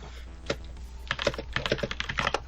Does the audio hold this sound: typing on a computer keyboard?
yes